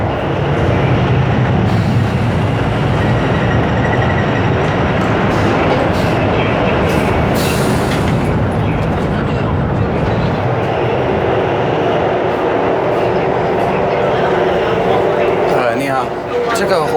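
Interior of a high-speed train running from mainland China to Hong Kong, a loud continuous rumble and rushing roar of the moving carriage, with faint rattles and clicks throughout.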